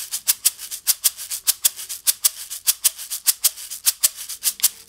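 Homemade shaker of glued Yakult bottles filled with rice, shaken in a steady rhythm of about four crisp, bright swishes per second, close and light, with no other sounds.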